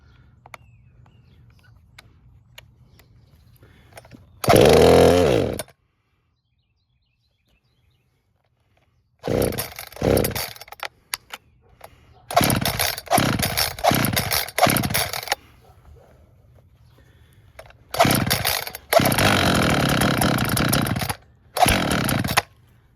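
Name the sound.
Echo CS-440 chainsaw being started and running on throttle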